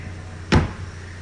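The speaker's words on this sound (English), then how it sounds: "make sure my door latches inside and outside work properly" A 2017 Chevy Trax rear door latch clunks once, a single short mechanical thump standing alone against low background hum.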